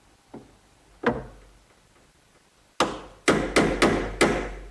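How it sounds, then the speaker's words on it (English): Sharp chisel strikes into hard oak while cutting a hinge mortise: a few scattered taps early on, then five loud, crisp mallet-driven blows in quick succession near the end, heard alone and close. "just using a chisel, I'll remove the right amount of material"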